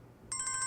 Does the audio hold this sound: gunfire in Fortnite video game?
no